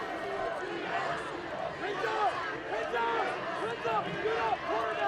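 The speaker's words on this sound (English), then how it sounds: "This Clark crowd is making some noise." Loud, steady roar of a high school football crowd in the stands during a Johnson vs. Clark game, a dense wash of cheering and yelling that runs through the whole stretch while an announcer talks over it.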